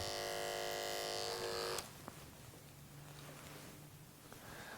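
Electric hair clippers buzz steadily while cutting short, straight men's hair, then switch off, leaving only quiet room sounds and faint rustles.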